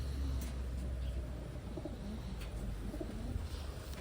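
Soft, low pigeon coos repeat several times against a quiet background rumble in Taiwan, fairly close.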